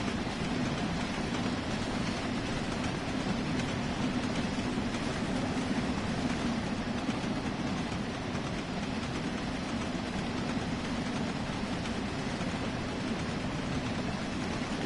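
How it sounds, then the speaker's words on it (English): A train rolls on at speed in the Train Sim World 3 video game, a continuous dense rumble and rattle of wheels and carriages that holds steady and loud throughout with no talking. "Train's not slowing down."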